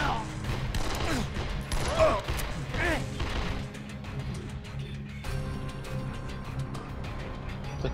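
Assault rifle gunfire crackles in the zombie video game Dead Island, a dense clattering volley with impacts, loudest early then steadier, mixed with game noise and occasional voices.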